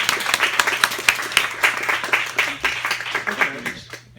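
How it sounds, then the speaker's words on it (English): Audience applause welcoming Zoom founder and CEO Eric Yuan on stage at a Startup Grind Sacramento interview event: steady crowd clapping for about four seconds, fading out at the end, with some talk underneath. "So with that, please give Eric a big round of applause."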